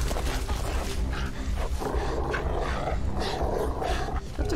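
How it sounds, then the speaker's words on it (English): A dog growls and snarls in the video game Beyond Two Souls as a loud, continuous, rough rumble layered with deep game audio. "Do I have to fight a dog?"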